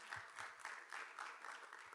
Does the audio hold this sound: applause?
yes